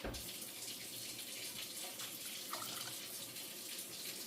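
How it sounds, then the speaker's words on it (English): Tap water runs steadily into a cooking bowl to rinse it out, a continuous close, even splashing hiss with a slight change in flow partway through and no talk. "now I'm going to add a little bit more water to my bowl to clean out my bowl"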